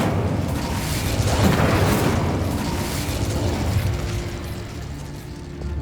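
The Incendio fire spell in Hogwarts Legacy erupts in a loud, dense whooshing burst of flame with rumbling booms, fading slightly before swelling again.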